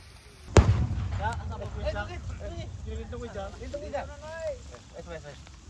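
A single sharp firecracker bang goes off, followed by people chatting nearby.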